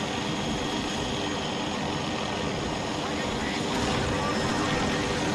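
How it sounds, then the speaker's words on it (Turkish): Helicopter arriving in the video game Battlefield 2042, a dense, continuous rotor and engine roar that builds slightly toward the end, with players talking over it. "Hadi lan helikopter geldi."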